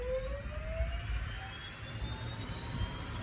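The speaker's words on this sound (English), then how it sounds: "The sound of a turbine engine spooling up represents a daily reality to a very small percentage of general aviation pilots" A Daher TBM 900 turboprop's turbine engine spools up with a faint, steady whine rising gradually in pitch over a low rumble, with no voices.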